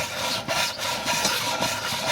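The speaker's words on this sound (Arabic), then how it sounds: "هتشتغل تصنفر لحد كده، لحد ما ما هتلاقيها كلها مية واحدة" A tuk-tuk engine part being rubbed back and forth on a square sheet of sandpaper laid on a flat glass plate, a steady rasping scrape in regular strokes, close and fairly loud, with no talking.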